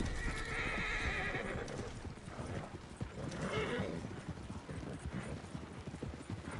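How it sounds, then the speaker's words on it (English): Horse hooves clip-clopping at a steady gallop in the Red Dead Online western game, a dense rhythmic patter of hoofbeats with a horse whinnying near the start, close and continuous throughout. "my horses are riding on their own"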